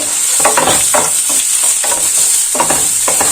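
Chopped onion sautéing in a new pan as the base for squash in coconut milk, with a steady sizzle and repeated stirring scrapes at an even rhythm, close and fairly loud, with no talk.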